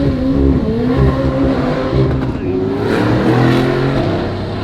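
McLaren 765LT supercar doing donuts in the street, a loud, close engine that revs and surges in waves with hints of tire noise, while a voice talks over it.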